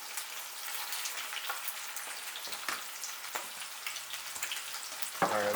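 Jalapeno bacon with a sugary coating frying in a pan over medium-low heat, giving a steady, fairly soft sizzle with scattered pops and crackles throughout and a few sharper spatters near the end.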